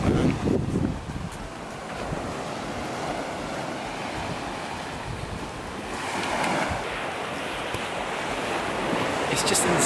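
Surf breaking on a private beach in the Maldives, a steady wash of waves with wind buffeting the microphone, and someone speaking briefly over it.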